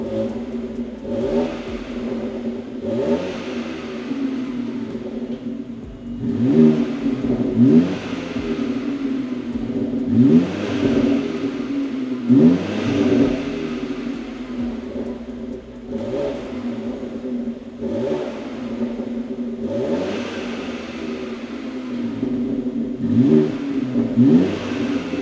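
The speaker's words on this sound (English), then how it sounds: "So that is how the X3M sounds like with the stock exhaust." A BMW F97 X3M engine with stock exhaust revs repeatedly, each rise in pitch followed by a drop, in a steady rhythm of throaty bursts with no talking.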